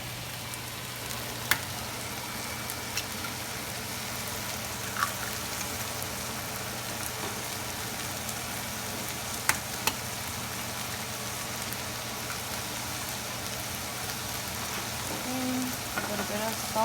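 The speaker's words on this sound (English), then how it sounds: "just put the omelet in there so it can start cooking" Omelette eggs cooking in a pan for breakfast, giving a steady soft sizzle that runs the whole time, with faint scattered clicks and no speech.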